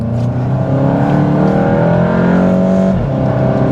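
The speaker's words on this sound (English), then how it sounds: "it also increases the engine noise" A 2018 Volkswagen Golf GTI SE engine roars and revs hard as it accelerates, loud and close, with a steady rising drone throughout.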